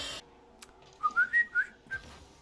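A person whistles a short tune of five quick, clear notes, alone after a brief burst of noise at the start.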